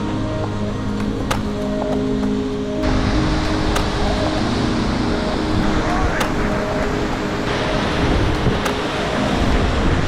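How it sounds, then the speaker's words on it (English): The Krimml waterfall in Austria, a loud, steady roar of falling water heard up close, with wind buffeting the microphone and brief talk over it. "So I'm just standing near the waterfall, but Jasper's just gone over there to go see"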